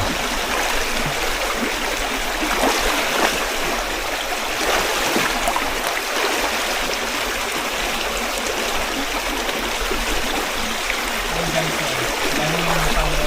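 Water from a natural spring flows and trickles continuously, a loud, steady rushing stream close by with no talk over it.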